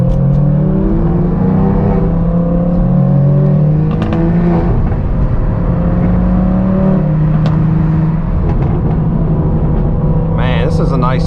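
A straight-piped BMW M4 G82 with a manual gearbox accelerates hard, its loud raspy exhaust rising and falling through gear changes. Someone talks over the engine the whole time.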